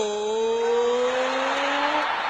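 A voice imitates a motorbike revving as it accelerates: a continuous, loud, buzzing engine-like drone that rises slightly in pitch and holds steady for a couple of seconds.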